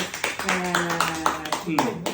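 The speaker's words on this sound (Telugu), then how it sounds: "ఓకే క్లాప్స్ కొట్టండి క్లాప్స్ క్లాప్ కొట్టండి" At a son's birthday celebration for his father, people clap in a quick, even rhythm. The claps sit close and fairly loud under voices that talk and sing across the whole moment.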